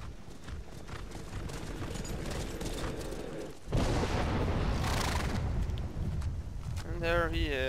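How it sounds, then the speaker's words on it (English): A ghost horse's hooves clip-clop in Skyrim amid dense game ambience and rumbling booms, the hoofbeats partly buried under the loud mix. "there he is, a ghost horse"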